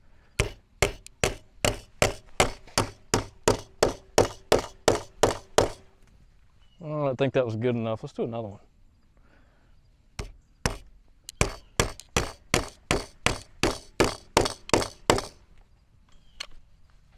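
Red dot sight used as a hammer to drive a screw: a rapid run of about a dozen sharp metallic knocks, a short spoken pause, then another steady series of strikes, close and loud.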